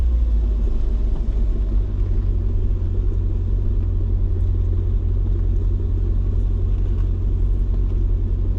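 A Mercedes C55 with an M113 V8 running very rich idles in place, giving a steady low, rumbling drone with no change in revs throughout.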